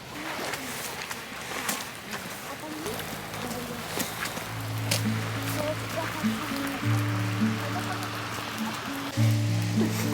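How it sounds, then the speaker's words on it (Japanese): Rain falls during a snowy winter day in Yamagata, a steady soft patter that runs throughout, joined partway by louder sustained musical tones. "ちょっと雨っぽいよ。"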